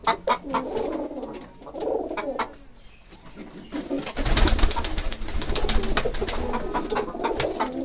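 A female pigeon that has just laid an egg coos in repeated soft throaty calls, close by, with a burst of louder rustling and fluttering partway through.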